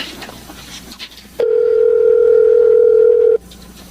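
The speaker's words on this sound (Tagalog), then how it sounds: "Tatawagan ko si Inay. Sana sagutin niya ang cellphone." A cellphone call rings out as a steady electronic ringback tone, one sustained loud beep lasting about two seconds that stops abruptly, with muffled background sound before and after.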